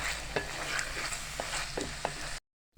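Chicken, 400 g of it, fries in a pan for kabab, a steady broadband sizzle with a few soft stirring scrapes, ending in a short moment of silence.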